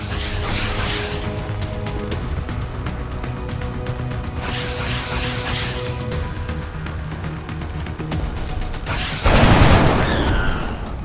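Gunfire from the strategy game XCOM Enemy Unknown: a dense stretch of shots and rattling bursts under game music, then a sharp, louder blast of fire near the end.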